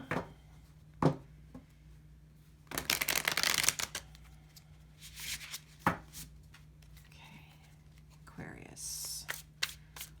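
A Light Seers Tarot deck is shuffled up close, with soft riffling and card slaps in scattered bursts and a longer flurry partway through, quiet under a low room hum.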